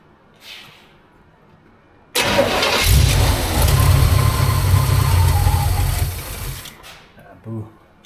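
A 1949 GMC truck engine cranks and catches, running roughly at a steady loud idle for several seconds before shutting off, with quiet sounds before and after.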